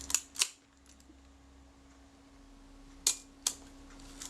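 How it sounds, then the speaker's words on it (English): The shutter of a Retina IIc camera under repair releases with crisp, faint clicks: a close pair at the start and another pair about three seconds later, over a quiet room hum. "So the shutter's releasing at the correct point now"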